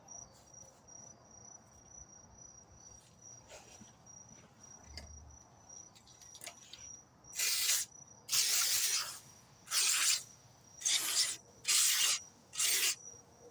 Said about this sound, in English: I ain't got to spray it this hard.